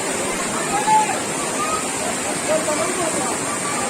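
Rushing water of Umbrella Waterfall in KPK, a steady broadband roar throughout with faint voices of tourists nearby.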